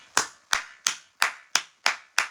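Seven sharp, bright hand claps ring out alone at a steady even pace, each crisp and close with a short decay.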